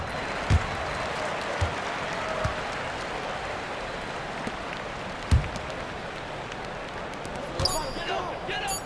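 Home crowd noise in the NBA 2K24 basketball video game, a steady broad roar of cheering and applause with occasional ball bounces and thumps, ending with a brief shrill sound.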